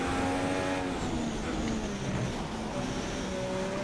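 Simulated Formula 1 race cars from F1 2016 at the Bahrain circuit, engines whining loud and steady with rising and falling pitch as a car pulls past, several engine tones overlapping.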